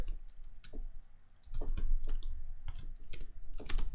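Typing on a computer keyboard, with irregular bursts of crisp key clicks, sparse at first and then denser and steadier, close and fairly loud with no talking.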